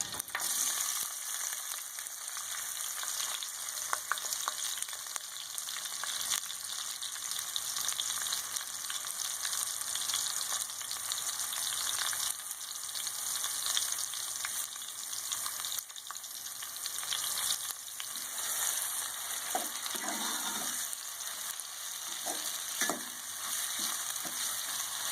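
Onions frying in leftover ghee after karela was fried in it, a continuous dense sizzle with occasional stirring scrapes and clinks, close up, no voices.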